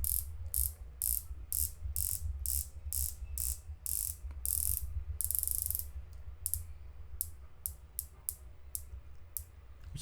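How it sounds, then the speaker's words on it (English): Rotating bezel on a dive watch, a San Martin SN004 V2 or a Tudor BB58, turned click by click: a close, crisp run of rapid ratcheting clicks over a low background hum, with a brief pause partway through. "we only have a 60 clicks bezel here, which feels way better to operate"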